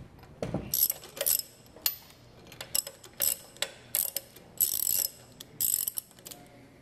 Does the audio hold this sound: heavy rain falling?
no